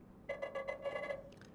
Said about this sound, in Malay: So ini adalah sound ringtone daripada Nothing Phone 2A.